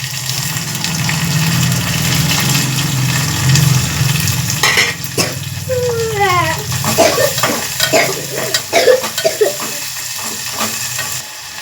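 Onions and curry leaves fry in a pan with a steady loud sizzle that turns into crackling, popping bursts partway through, close up, with no talking.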